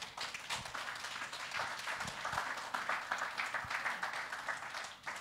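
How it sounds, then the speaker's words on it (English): An audience inside a cathedral at a book launch claps for a speaker, dense steady applause lasting about five seconds, moderately close and with no talk over it. "I think we need to give her a big clap"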